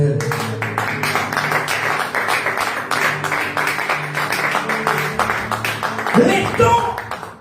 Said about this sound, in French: Est-ce qu'on peut opérer de l'acclamation à l'Éternel?